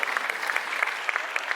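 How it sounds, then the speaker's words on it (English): Audience at a convention applauding steadily throughout, a dense even wash of many hands clapping close by with no speech. "let's give a big round of applause to Nick and Lin."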